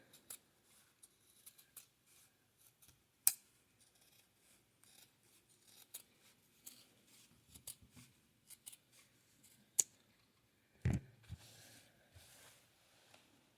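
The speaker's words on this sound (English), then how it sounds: "we're going to just make a curved cut across here, like this" Scissors making a curved cut through material for a pouch, a run of quiet, close snips and rustles with a few sharper clicks and handling noises.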